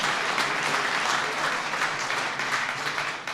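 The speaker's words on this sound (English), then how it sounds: "can I just invite you to give a big round of applause to the Second Lady of the United States of America" Loud, dense applause from a gathering of Honor Flight veterans and guests for Second Lady Karen Pence, a continuous roar of many hands clapping close by throughout.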